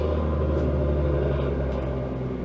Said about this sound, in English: I know y'all heard that truck.